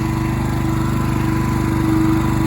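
A Champion inverter generator running in eco mode hums steadily at close range, a constant engine drone with a fast, even pulse and no talk over it.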